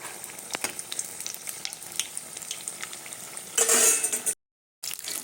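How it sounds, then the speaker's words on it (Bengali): Snacks deep-frying in hot oil, a continuous close sizzle with light clinks of a utensil against the pan, swelling into a louder hiss near the end before a brief cut. "সবগুলো ভেজে নেবো এভাবে"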